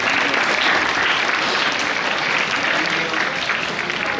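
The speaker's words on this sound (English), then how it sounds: "Can we have a huge round of applause" An audience at a school Republic Day celebration gives a dense, continuous round of applause. The clapping stays loud and even for the whole stretch.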